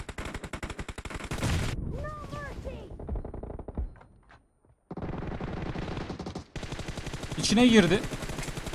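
Gunfire in the mobile battle-royale game PUBG Mobile: loud rapid bursts of automatic shots, with a short quiet gap midway and a final louder burst, while a player talks over the action.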